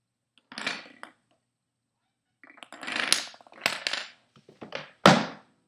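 Books falling one after another inside a homemade Rube Goldberg machine for a physics final, giving a string of short thuds and clatters: one hit, a pause, then a quick irregular series of knocks, the last one loudest.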